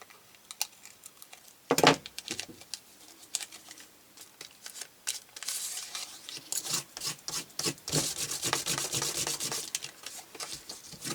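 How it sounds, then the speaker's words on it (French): Excess paper or plastic is trimmed away in a craft project, with close, fast scratchy cutting and rubbing sounds in irregular bursts, growing busier toward the end, with no speech. "je vais découper le surplus"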